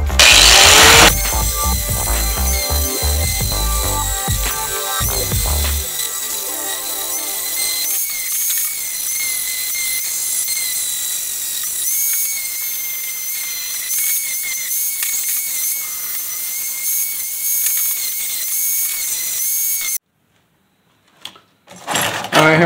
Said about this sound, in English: Now we're gonna hit with the grinder,